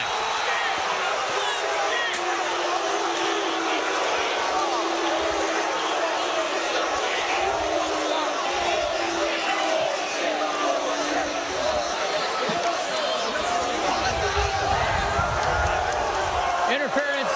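A packed high school football stadium crowd roars after a pass interference flag at Elder versus Colerain, a dense, loud, unbroken wash of cheering and yelling with a play-by-play voice talking over it.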